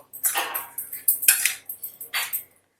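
A spoon mixes hilsa fish pieces with salt and mustard oil in a bowl. Close, rhythmic scraping strokes come in about eight or nine regular bursts, with a metallic tap partway through.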